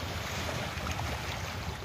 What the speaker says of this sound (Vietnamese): Bạn nhìn sóng là biết rồi đấy, gió rất là to.